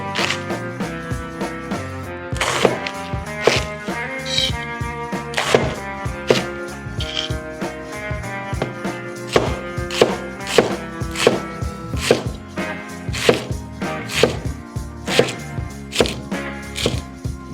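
A knife chops cabbage on a board in quick, regular strokes, each thunk crisp and close, with a brief pause early before the rhythm resumes.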